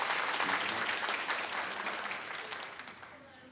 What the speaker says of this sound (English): Everyone as they come up, give them a round of applause.